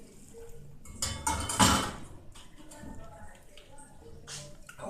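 Smooth blended groundnut paste poured into a metal cooking pot, with clinks and scrapes of utensil against pot and a brief wet burst, all under a speaking voice.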